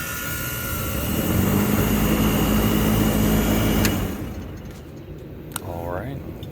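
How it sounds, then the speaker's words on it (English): An old Trane HVAC unit's compressor runs with a steady, loud low hum and broadband whir for about four seconds, then cuts off, leaving quieter background noise and a few faint clicks. "Well, compressor runs."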